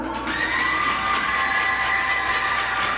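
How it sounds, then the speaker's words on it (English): A crowd at a youth under-15 hockey championship game cheers loudly and steadily for goalie Henry Walker, with shouting kids' voices blending into a sustained roar that holds for the whole stretch. "Big cheer for Walker."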